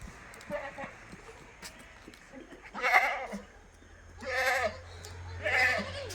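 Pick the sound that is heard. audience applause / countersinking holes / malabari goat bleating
malabari goat bleating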